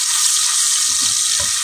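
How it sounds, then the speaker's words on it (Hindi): Whole spices, black peppercorns, cloves and green and black cardamom, frying in a pan, a loud dense hiss with faint stirring underneath. "और अब इन चीज़ों को 15 से 20 सेकंड के लिए भून लेंगे।"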